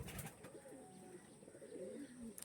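Domestic pigeons of Andhra, Malabai and Arshad Madi breeds cooing softly in a loft, low murmuring coos running continuously with faint chirps and rustling nearby.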